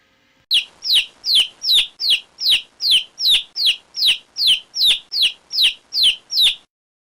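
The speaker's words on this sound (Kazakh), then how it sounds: "балапан," A chick peeps in a rapid, even series of about fourteen high, clear chirps, close and loud against a quiet background.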